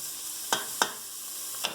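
Onions and tomatoes sizzling in a soup pot, a soft close sizzle broken by three sharp clinks or stirs.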